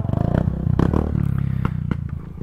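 A motorcycle idles close by on a ride to a barangay in Southern Leyte, its engine throbbing in a steady rapid pulse with rattling and clattering mixed in.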